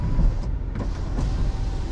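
A power sunroof motor whirs open on a 2012 Chevrolet Suburban, a steady electric hum heard close up inside the vehicle for a couple of seconds.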